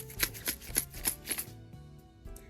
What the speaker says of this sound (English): I got some colored lead, which sounds like it's broken.